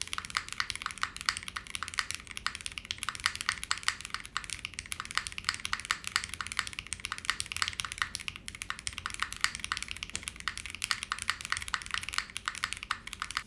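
Continuous typing on a Magnum65 mechanical keyboard with foam, a Flex Cut PCB and an aluminum plate, producing soft, muted, rapid keystrokes in a steady stream.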